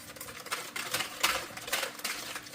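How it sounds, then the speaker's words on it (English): A whisk beats egg whites with sugar for ladyfinger batter. It gives a steady, fast, rattling sound alone, close and fairly loud. "We are whisking the whites with some sugar."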